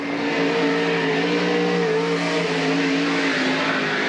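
A sprint car roars around a lap at Cottage Grove Speedway during a 1998 Northern Sprint Tour race, its engine a loud, continuous high-revving drone with slight pitch shifts and no talk over it.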